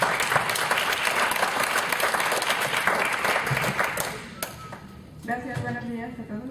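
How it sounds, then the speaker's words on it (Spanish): Audience applause welcoming a speaker at a mathematics talk, dense clapping that fades out after about four seconds, followed by a few scattered claps and a voice starting to speak. "la recibimos con un aplauso"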